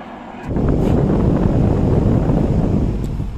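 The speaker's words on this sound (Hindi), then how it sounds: "इधर ये इधर पूरा रेलवे स्टेशन है, पूरा मतलब रेल का पटरी है, तो यहाँ से ट्रेन भी जाता है" A train passes on railway tracks beside a station: a loud, steady rumbling roar begins abruptly and continues without letting up, with no talking.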